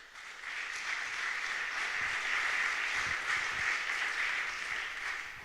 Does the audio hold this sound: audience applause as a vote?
yes